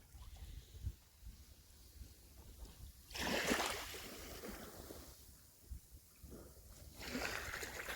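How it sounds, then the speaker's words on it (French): Small waves lapping at an icy shoreline, faint soft splashes recurring irregularly, with two fuller washes standing out against a quiet background. "Et ce son de l'eau, des petites vagues."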